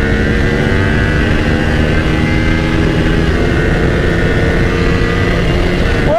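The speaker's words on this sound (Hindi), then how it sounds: "कांटे की टक्कर पे दोनों की दोनों बाइक चल रही थी" A KTM Duke and a Kawasaki Ninja 300 race side by side, engines droning loud and steady with wind roar over a helmet-mounted microphone, no voices.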